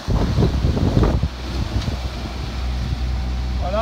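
Strong force-5 wind buffets a sailboat at sea, rushing and gusting loudly against the microphone with a steady low roar, a brief voice in the first second.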